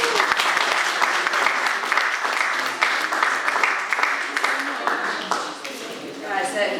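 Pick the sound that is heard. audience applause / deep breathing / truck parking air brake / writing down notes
audience applause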